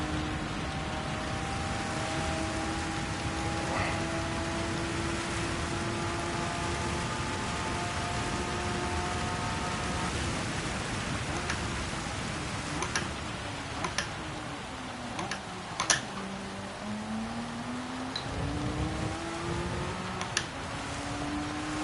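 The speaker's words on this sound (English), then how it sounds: "as you can tell, the rain has intensified a lot." Steady broadband hiss of heavy rain falling during a Gran Turismo 7 race, layered with engine tones that hold and then sweep up and down, plus a few sharp ticks, with no talk over it.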